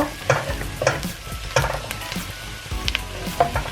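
Mushrooms are stirred in a hot pan for tuna carbonara, a spoon knocking and scraping in a loose rhythm over a steady close sizzle, with no voices.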